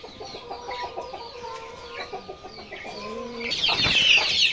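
Desi chicken chicks cheeping in a hatchery, a cluster of high, rapid peeps close by, busier and louder toward the end, with no talking.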